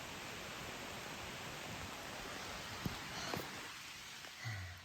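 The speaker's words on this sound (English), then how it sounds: "So of course it started to rain." Steady hiss of rain falling, heard from under a tree on the Appalachian Trail in Vermont, even and continuous, with a couple of brief sharper taps near the end.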